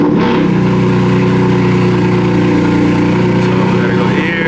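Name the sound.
BMW M4 engine starting up and revving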